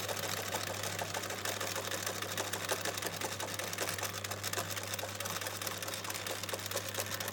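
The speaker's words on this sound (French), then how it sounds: "je viens piquer donc l'autre morceau comme ceci" Sewing machine stitching a second fabric piece for a shabby-style pencil pouch, a steady close mechanical whir with fast needle clatter running continuously, no talking.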